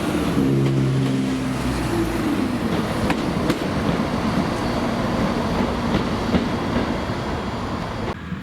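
An East Midlands Railway class 170 diesel unit at Crewe station, a steady loud rumble of engine and wheels with tonal drones at the start and scattered rail clicks throughout, no voices.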